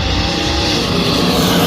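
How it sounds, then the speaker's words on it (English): A blue Holden Commodore race car roars down the strip in a roll racing heat at Adelaide, a loud sustained engine drone close by with no talk over it. "Oh, that tough blue Commodore over in lane 2."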